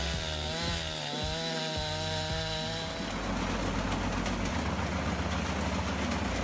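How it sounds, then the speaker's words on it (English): Woodland Bumblebee sawmill sawing a Douglas fir trunk into even boards: a loud blade whine with shifting harmonic tones gives way to a dense, rough cutting roar through the wood, continuous with no talk. "A Douglas fir is placed on the machine, and the trunk is carefully sawn into even boards."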